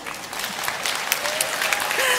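An audience claps steadily in a live stage show at a sweet-soup shop setting, fairly loud and close, with a faint voice and a brief whistle-like tone rising near the end.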